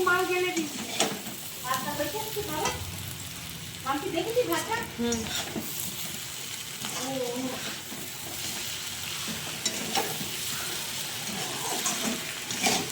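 Meat sizzles and is stirred in a wok in a home kitchen, a steady frying hiss with occasional scraping, while someone speaks intermittently over it.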